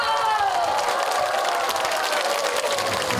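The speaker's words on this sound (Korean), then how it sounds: "자, 큰 박수로 모실게요." A singing-class crowd in Busan claps and cheers to welcome a singer, a loud, continuous mix of clapping and excited voices throughout.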